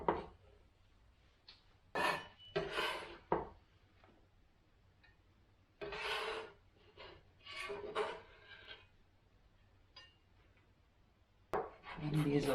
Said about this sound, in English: I'll just chop everything finely.